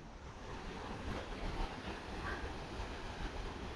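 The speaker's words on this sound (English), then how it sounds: "They've got a wonderful waterfall there." A waterfall at a striking outdoor spot with a swimming area sends out a steady, broadband rush of falling water, loud and continuous throughout with no voices.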